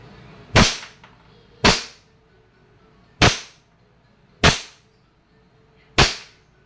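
A KWC 75 competition model airsoft pistol fires five sharp, snappy shots at irregular intervals, each a crisp close crack with a short decay, in a quiet setting without talk.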